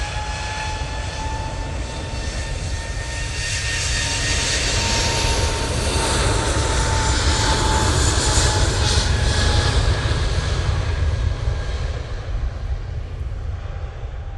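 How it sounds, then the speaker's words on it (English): Ryanair airliner coming in to land at Manchester, a loud jet engine roar with a steady whine that swells toward the middle and eases off at the end, heard alone without speech. "Ryanair now coming in."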